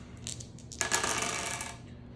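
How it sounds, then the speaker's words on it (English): Dice tumbling and clattering across a tabletop in a game of 4-5-6, a few light taps followed by a longer rattling roll that fades out, close and fairly soft. "these dice keep rolling away"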